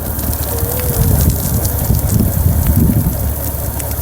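Water gushes loudly and steadily from a leaking high-pressure valve at a water station, a close continuous roar with rain falling and no speech.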